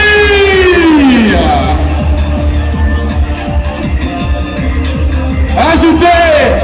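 A large crowd at a political rally for the yes vote in Gabon roars, cheers and whistles loudly, with a wailing siren-like horn sweeping over the noise at the start and again near the end.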